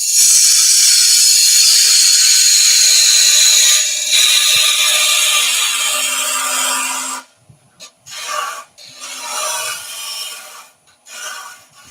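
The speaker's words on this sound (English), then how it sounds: "Right, just roughing that out with a bowl gouge first." Wood roughed out on a lathe with a bowl gouge while shaping a deep foot, giving a loud sustained rasping cut that later breaks into shorter intermittent scraping bursts as the tool comes on and off the workpiece.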